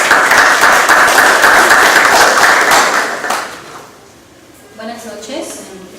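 Strong applause from an audience at a literary congress round table honoring the poet Luis Hernández, dense and loud for about three seconds before fading to a quiet room with faint movement.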